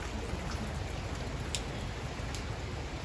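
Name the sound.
rain falling during a bike ride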